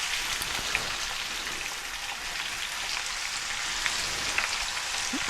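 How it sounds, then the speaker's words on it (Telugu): Onions frying in oil for an anchovy and brinjal curry, a steady dense sizzle that stays close and even throughout, with no talking. "ఇది ఆయిల్లో ఉల్లిపాయలు వేసేసుకొని మంచిగా వేయించుకొని ఫస్ట్."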